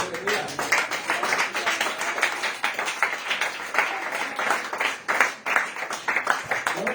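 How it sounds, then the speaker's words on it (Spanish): Congregation in a church clapping along rhythmically during a sermon, steady repeated claps at a lively even pace over a busy background of voices. "Den aplausos al Señor."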